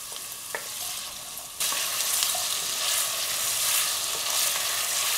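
Carrots drop into hot oil with onion and garlic for a vegetable curry, and a loud dense sizzle jumps up and then holds steady, close by.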